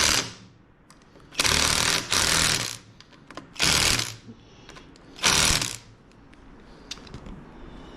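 Power driver running T27 screws into a motorcycle clutch or brake lever collar, four loud close whirring bursts of about a second each separated by quiet gaps, then a few light clicks.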